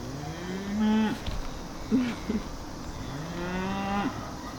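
Several cows on a farm moo in long, drawn-out calls, three main bellows with shorter grunts between them, fairly close and loud, with no talking.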